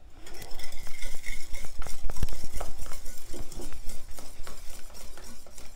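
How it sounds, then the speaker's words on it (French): Eggs and sugar being whisked together in a mixing bowl for a Neapolitan cake batter, a steady rapid scraping and clinking of the whisk against the bowl running continuously at close range with no talk. "Je viens y ajouter le sucre et je mélange."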